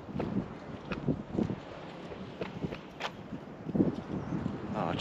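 Gusty wind buffeting the microphone outdoors at a Sydney dock, with a low rumble, mixed with scattered soft thumps and faint voices.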